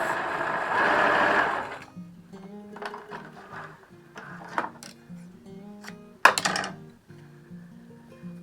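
A sewing machine stitches fabric pieces together in a short, buzzing run near the start, followed by quieter intermittent tonal sounds.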